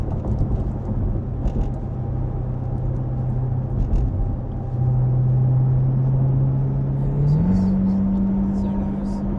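A Corvette C8 sports car engine drones with a steady low rumble from inside the cabin, the tone stepping up in pitch as it accelerates. People talk over it throughout.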